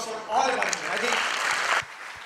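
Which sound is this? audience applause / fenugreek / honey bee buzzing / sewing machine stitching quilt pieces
audience applause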